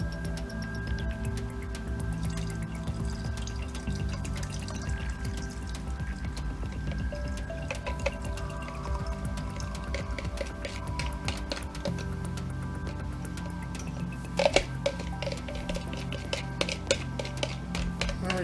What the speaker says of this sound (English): now we want to carefully add in our marinade